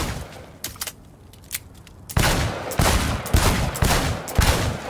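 Rapid gunfire at a shooting range in Cyberpunk 2077: a few scattered single shots, then a dense, loud sustained volley of overlapping bursts that keeps going to the end.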